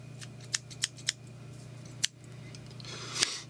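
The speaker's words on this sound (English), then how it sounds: "put my scissors on an angle, and it's nice with a rotary vise because I just clip and spin, clip and spin." Scissors snip fly-tying material on a rotary vise while tying an Orange Bomber fly, a series of crisp, close clicks at a steady pace over a low electrical hum, with no talk.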